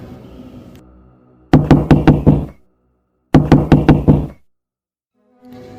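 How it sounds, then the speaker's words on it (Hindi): Two bursts of loud, rapid knocking on a gate, about five sharp raps each, separated by a brief silence, close and prominent with faint ambience before and after. "लेकिन फिर से गेट खटखटाने की आवाज़ आती है।"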